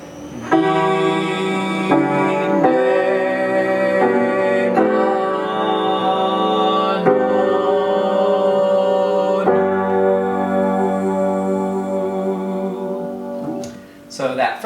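A rehearsal choir sings warm-up vowel syllables in sustained harmony, several voices holding chords that shift every couple of seconds, full and steady, ending with a brief pause and a few stray sounds.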